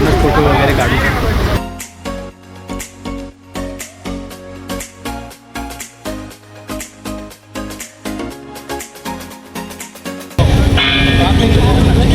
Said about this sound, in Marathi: तुम्ही आता हे घंटेचा आवाज ऐकला असेल.